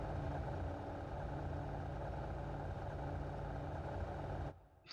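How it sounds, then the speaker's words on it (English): Engine note of a Lotus Europa in Gran Turismo 4, a dense steady mid-pitched drone at moderate loudness that cuts off abruptly just before the end. "Definitely what a Lotus Europa sounds like."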